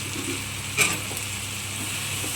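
Steady sizzling of chopped tomatoes and capsicum frying in a pan, with a brief louder hiss and stir partway through, no talking.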